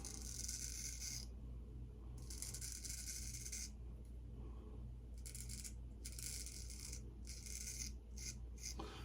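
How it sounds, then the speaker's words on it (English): A straight razor scrapes through stubble on a first pass with the grain, in repeated short rasping strokes, close and crisp, with brief pauses between passes. "get going with pass number 1 with the grain"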